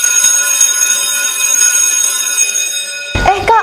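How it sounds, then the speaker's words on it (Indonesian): A school bell rings continuously with a steady, bright metallic tone at school on a Saturday morning before class, loud and close, cut off at the end by a voice. "Kak, udah bel tuh, ayo masuk."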